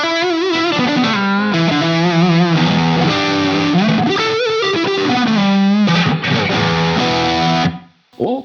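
Electric guitar run through a Tube Screamer overdrive pedal in a Quad Cortex preset, playing loud sustained distorted notes and chords that shift pitch continuously before cutting off near the end.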